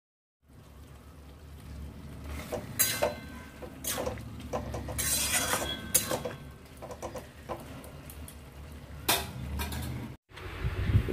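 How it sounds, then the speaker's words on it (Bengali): Malabar spinach stalks and okra curry being stirred in a pan, with irregular scraping and clattering of a utensil against metal over a soft bubbling simmer, close up. "দশ মিনিট পর ঢাকনা খুলে সবজিটা নাড়াচাড়া করে দিচ্ছি।"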